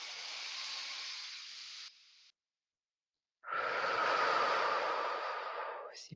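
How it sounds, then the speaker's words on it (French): A person breathes during a relaxation session: a long, airy breath that stops, a short silence, then another deep, hissing breath that fades near the end, close and quiet. "Inspirez."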